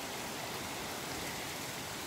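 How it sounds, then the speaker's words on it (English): Heavy rain pours steadily in Wisconsin, a dense, even hiss of drops on surfaces with no breaks or distinct events; no voices are heard over it. "it's raining so bad in Wisconsin"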